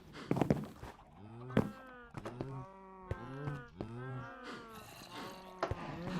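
Cows moo in the video game Minecraft, several overlapping drawn-out lowing calls in quick succession, fairly quiet, mixed with soft game thuds and footsteps.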